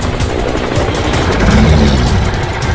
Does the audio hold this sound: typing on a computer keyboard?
no